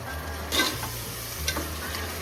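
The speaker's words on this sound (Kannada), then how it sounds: "ಮಿಕ್ಸ್ ಮಾಡಿ ಅದನ್ನು ಫ್ರೈ ಮಾಡ್ತೀವಿ." Green masala for chicken biryani stirred and frying in a pan, a steady sizzle with a couple of scraping stirs, close up and without talk.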